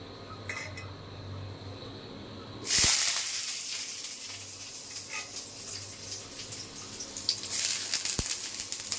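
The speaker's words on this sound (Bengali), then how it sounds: "কড়াইতে তেল দিয়ে দিলাম।" Cooking oil poured into a hot kadai for frying okra hits the metal with a sudden loud sizzle about a third of the way in. A steady crackling hiss follows over a low background hum.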